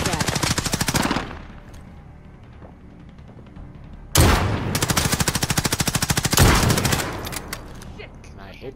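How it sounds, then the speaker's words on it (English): Dense bursts of rapid automatic gunfire rattle loudly in a first-person shooter match on the Road to Damascus map, pausing briefly before another long, continuous volley. "Taking direct fire!"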